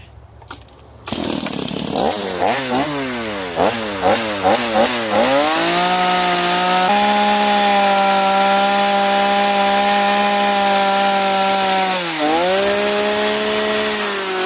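A chainsaw carves a wooden hand sculpture, starting up loud and close, revving in repeated bursts and then holding a long steady cut before dipping briefly and picking up again.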